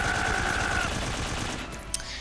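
Automatic gunfire in the video game Metal Gear Solid 3 Snake Eater: a loud, continuous rattle of rapid shots that lasts throughout, with a sharper crack near the end.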